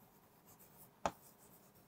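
A single short, sharp tap of chalk or marker on a classroom board, one close stroke heard alone against a quiet background.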